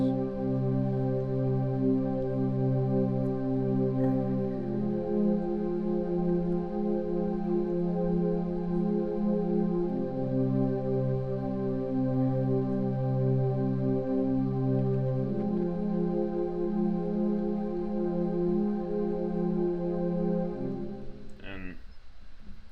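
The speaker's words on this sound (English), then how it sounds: "I started off with this pad from Synology" Soft Pad 1 synth pad preset from Synology playing sustained, layered chords that shift every few seconds, loud and steady on its own, for a Detroit-style beat.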